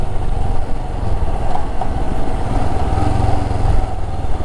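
A Royal Enfield Himalayan BS6 motorcycle engine thumps with a loud, low, steady rumble close by as the bike rolls up, its rough exhaust pulse continuous throughout.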